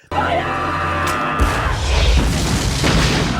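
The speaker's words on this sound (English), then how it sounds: "That explosion is insane." A movie explosion from Mousehunt (1997) bursts in loud and sudden, then rolls into a sustained, dense roar of blast and crashing debris that fills the rest of the stretch.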